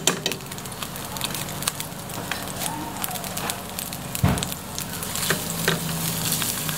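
A generous amount of garlic sautés in hot cooking oil, giving a continuous close sizzle dotted with frequent crackles and pops, with a brief clatter partway through and faint voices in the background.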